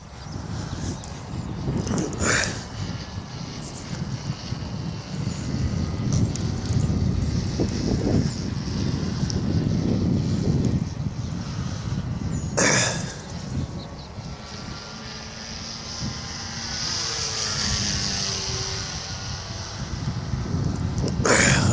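A scratch-built 60-inch foam P-51 RC model airplane makes a low pass, its electric motor whine rising and falling beneath wind buffeting on the microphone, with a couple of sharp gusts.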